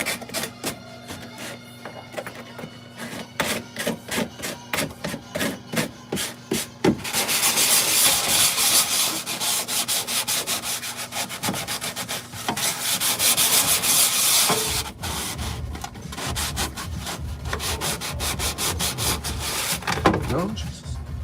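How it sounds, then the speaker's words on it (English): Steady abrasive sanding, rhythmic rubbing strokes at first, then a continuous loud grinding rasp; close by, with no talking. "Oh, sanding and stuff."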